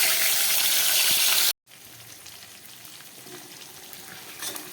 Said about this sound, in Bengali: মশলা মাখিয়ে মাছটা দিয়ে দিলাম গরম তেলের উপরে।